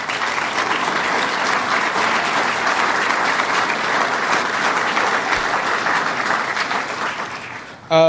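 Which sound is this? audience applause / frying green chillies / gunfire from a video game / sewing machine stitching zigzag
audience applause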